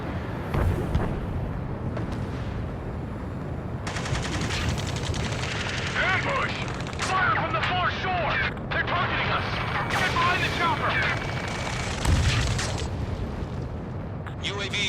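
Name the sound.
gunfire in the Ace Combat 7 video game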